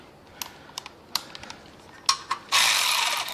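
A wrench ratchets on a Tab Performance slip-on exhaust for a Harley-Davidson, with a few sharp separate clicks followed by a brief rapid ratcheting burst at the end.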